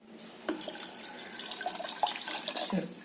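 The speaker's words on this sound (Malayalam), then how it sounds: "തിളയ്ക്കാറാകുമ്പോഴത്തേക്കും ശർക്കര ഒഴിക്കും." Jaggery syrup pours into a pot of milk and nuts, a close, steady liquid trickle and splashing with small drips, lasting a few seconds.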